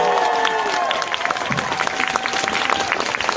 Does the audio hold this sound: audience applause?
yes